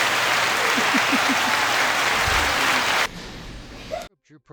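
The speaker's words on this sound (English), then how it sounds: "Applause." Sustained applause from a crowd fills the first three seconds loudly, then drops off abruptly to a quieter tail and near silence.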